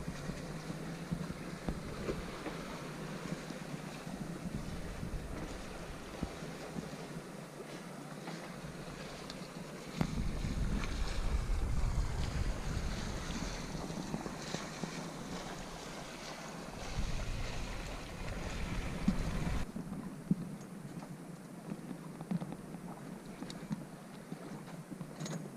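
Sailboat moving at about 5 knots on Lake Michigan under main, headsail and staysail, with steady wind rushing over the microphone and soft water wash, constant and fairly loud throughout, with no voices.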